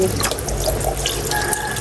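Tap water runs steadily into a sink while pork is washed for cooking, a close, continuous splashing hiss with light dripping, no talk.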